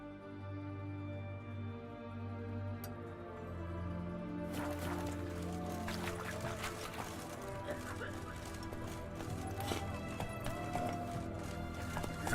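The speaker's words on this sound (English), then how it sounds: "Ooh, whoa there, Roach." A horse's hooves clip-clop in a galloping rhythm in The Witcher 3 game, steady and mid-distance under a low musical drone, growing busier after the first few seconds.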